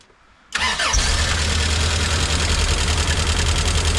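A rebuilt Toyota 4Y engine cranks and fires after half a second of near silence, then settles into a loud, steady idle with a constant low rumble and a faint ticking rattle, with no one speaking.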